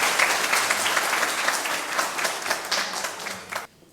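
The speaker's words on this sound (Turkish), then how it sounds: "Başkanımızı, yönetimini, muhtarımızı ve kendinizi bir alkışlayın." Dense, loud applause from a village crowd at a folk minstrel night, many hands clapping together close by, holding steady before cutting off abruptly near the end.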